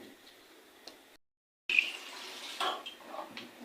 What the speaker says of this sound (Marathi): असे 2-3 वेळेला स्वच्छ धुवायचे.